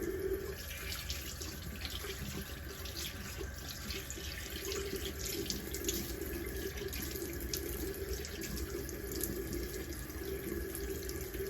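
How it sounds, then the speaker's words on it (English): Water runs steadily from a bathroom sink tap for several seconds, a constant close splashing flow with no talking while someone wets their face. "So I would just wet my face first."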